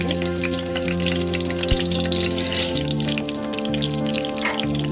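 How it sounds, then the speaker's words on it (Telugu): Steady crackling sizzle of garlic frying in hot oil in a pan, loud and close, continuing evenly throughout with a faint hum underneath. "ముందుగా ప్యాన్ పెట్టి ఆయిల్ వేడాక వెల్లిపాయ వేస్తున్నానండి."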